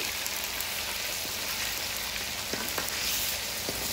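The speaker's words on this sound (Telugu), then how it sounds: "ఇప్పుడు నేను అల్లం పేస్ట్ వేస్తున్నా. వెయ్యగానే సుయ్యమనిద్ది, ఏం భయపడద్దు" Ginger paste sizzling and frying in plenty of hot oil, a steady loud crackle with scattered sharp pops, heard on its own with no talk.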